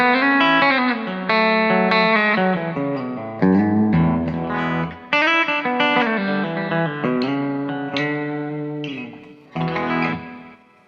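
An electric guitar played through a TC Electronic Hall of Fame reverb pedal in church mode: a loud, steady run of picked notes and chords with long, washy tails blurring into each other, with no talking.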